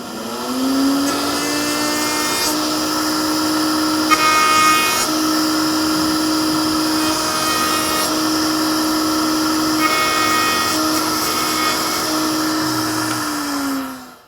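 A router rounds over the end of a wooden rafter tail for a Greene & Greene style table, giving a loud, steady high-pitched motor whine that holds for about fourteen seconds before cutting off, with no talking.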